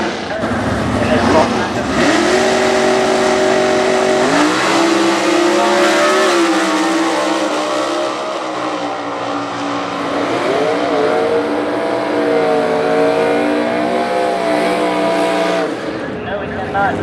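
A modified stock 1985 Pontiac Trans Am super stock race car revs and accelerates loudly with a rising, shifting engine drone, other race cars nearby, and an announcer talking over the noise.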